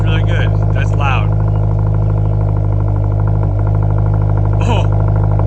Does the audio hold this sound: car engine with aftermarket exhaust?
yes